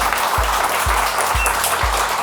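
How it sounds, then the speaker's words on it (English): Applause from an audience at a talk on Tudor military watches, a continuous hissing wash of clapping with soft low thumps recurring about every half second. "can we get a round of applause for James?"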